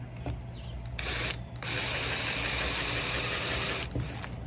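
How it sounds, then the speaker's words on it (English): A power drill with a countersink bit whirs up close, with a short burst, a brief pause, then a sustained grinding run as the bit widens holes in wood. "going to do with this countersink bit is I'm going to widen the holes on both sides"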